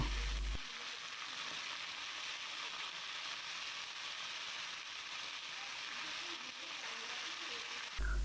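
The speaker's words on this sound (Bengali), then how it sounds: "এক পিট যখন হয়ে আসবে উল্টিয়ে দিচ্ছি এভাবেই করে কিছুক্ষণ মাছগুলো ভেজে নামিয়ে নেব" Pieces of rohu fish fry in hot oil in a pan, giving a steady, even sizzling hiss close by that runs without a break and with no speech.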